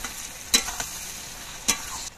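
Turmeric and chili powder being stirred into a frying mixture in a pan for chilli chicken, with two sharp scraping strokes of the spoon over a steady, quiet sizzle.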